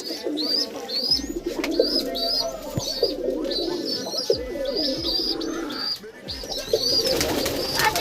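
Giribaz pigeons, a Rajshahi local breed, coo repeatedly inside their loft, with soft low cooing calls continuing close by alongside brief chirps, no talking.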